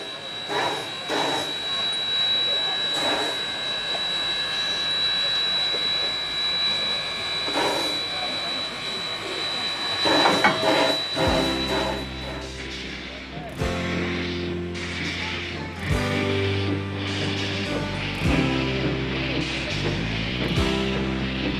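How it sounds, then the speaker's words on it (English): Steam train running through the hills and gullies of Victoria's Dandenong Ranges: steady hissing steam and chugging, then loud deep whistle blasts in repeated bursts, with a narrator talking over parts of it. "sounds of steam echo through the hills and gullies of Victoria's Dandenong Ranges"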